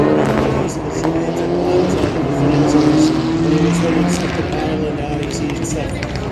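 A BMW M3 rally car on a forest special stage of the International McRae Rally Challenge drones steadily at close-to-mid range, engine tones rising and falling as it accelerates, with people talking over it throughout.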